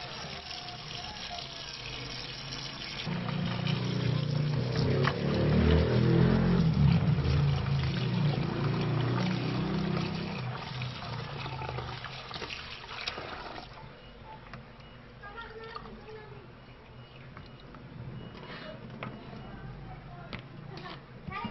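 Ground beef is rinsed under running tap water, a steady rushing splash that swells loudly in the middle and then eases, with a voice speaking over it.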